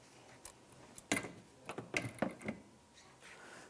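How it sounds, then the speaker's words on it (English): A ratchet wrench turning a 7/32 socket on a 1/4-inch drive while removing intake fasteners from a 2007-2013 Acura MDX, heard as a few short bursts of close, sharp clicking with quiet gaps between them. "I'm going to use a 7/32 socket, a 1/4" drive here"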